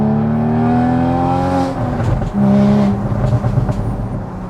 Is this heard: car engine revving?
yes